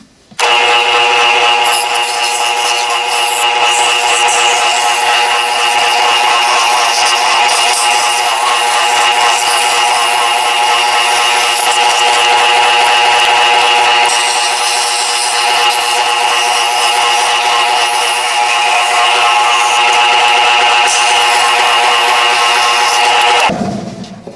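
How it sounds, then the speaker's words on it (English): A power sander whines at a steady, loud pitch on the edges of a 2x4 wood reindeer, running continuously without pause before cutting off abruptly at the end. "Then we can sand around all of this edges, get that done"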